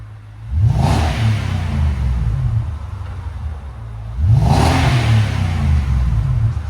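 A 5.6L V8 Nissan Armada fitted with a Flowmaster Super 10 exhaust, revved twice from a low burbling idle, each blip a loud rising roar that settles back down, heard up close.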